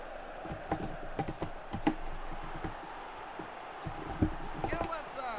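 Computer keyboard keys clatter in quick, uneven bursts of clicks while Actua Soccer is played, with a voice talking and game sounds running underneath.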